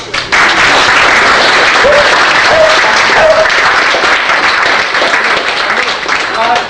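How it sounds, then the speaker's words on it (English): Enthusiastic audience applause at a convention closing ceremony, a dense sustained wash of clapping from a large crowd, with a few whoops rising above it. "so I'd like a round of applause for the hotel."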